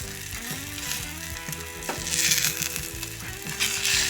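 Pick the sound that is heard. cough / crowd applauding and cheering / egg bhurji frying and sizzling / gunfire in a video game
egg bhurji frying and sizzling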